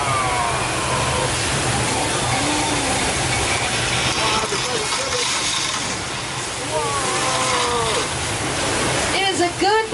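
Loud, continuous rushing water from a theme-park flash flood effect at Universal Studios Hollywood roars like a torrent, with faint voices and whistling sounds mixed in near the end.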